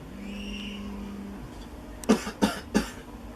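A few short, sharp coughs come in quick succession, close and loud, after a stretch of quiet background hum.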